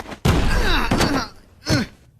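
A door in a cartoon pounded hard, a heavy thud followed by rumbling banging with groaning, strained vocal noises, then another loud knock near the end.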